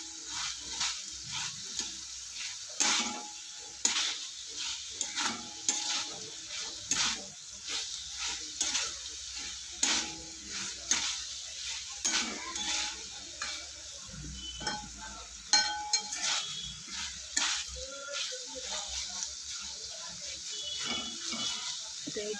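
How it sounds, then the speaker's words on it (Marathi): Bitter gourd stir-fry with grated coconut and chopped coriander being stirred in a pan, a steady run of close scraping and mixing strokes over a light sizzle, with no talking. "ह्यामध्ये थोडीशी चिरलेली कोथिंबीर हे टाकून मिक्स करून घ्यायचं"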